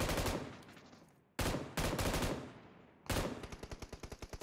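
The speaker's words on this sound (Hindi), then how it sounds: "watch out, watch out, firing guys" Automatic gunfire from PUBG Mobile comes in three loud bursts of rapid shots, close and unbroken. The last burst trails off into a rhythmic series of fading reports. There is no talking.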